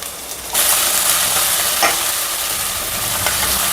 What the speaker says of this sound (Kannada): ಇದನ್ನು 1-2 ನಿಮಿಷ ಈ ಥರ ಜಿಂಜರ್ ಗಾರ್ಲಿಕ್ ಪೇಸ್ಟ್ ಇದ್ದು ರಾ ಸ್ಮೆಲ್ ಹೋಗೋವರೆಗೆ ಫ್ರೈ ಮಾಡಬೇಕು